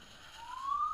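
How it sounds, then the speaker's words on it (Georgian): A siren switches on near a beach, its faint wail rising steadily in pitch over a low background hum, sounding distant. "და ისიც სირენა ჩაერთო"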